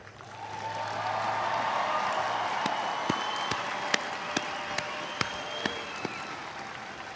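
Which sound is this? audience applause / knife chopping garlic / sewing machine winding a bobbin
audience applause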